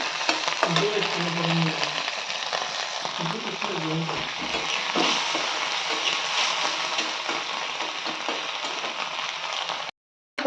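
Dried fish (shutki) frying in a pan, a steady loud broadband sizzle running throughout, with a voice speaking over the first few seconds before the hiss continues alone and cuts off near the end.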